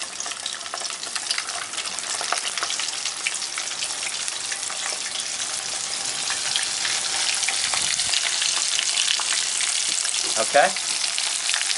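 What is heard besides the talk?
sardines dredged in seasoned flour frying in a pan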